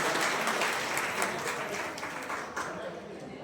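Hearty applause from an audience at an awards ceremony honouring a guest, a dense burst of clapping that gradually thins out over a few seconds.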